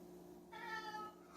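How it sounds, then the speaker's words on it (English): A pet cat gives a single short meow close by, standing out over a quiet room with a faint steady hum beneath it. "Every time I do a video, my cat's got to chime in."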